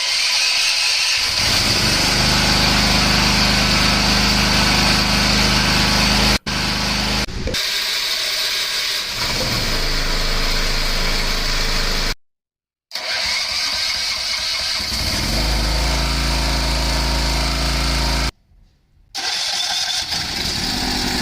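Japanese and Chinese gasoline generators, including a 6.5 model and a 3 kVA unit, started one after another: loud pull-start bursts catching into steady droning engine running, with brief silent cuts between starts, close up and alone.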